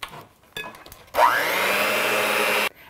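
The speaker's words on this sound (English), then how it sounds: "use your mixer to mix this" An electric mixer beats peanut butter cupcake batter in a bowl with one loud, steady whir that spins up quickly and runs for about a second and a half before stopping abruptly.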